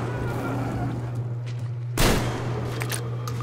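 A shotgun fires once in Metro Exodus, a sharp loud blast cutting through a low steady hum and faint background noise, followed by quieter clicks.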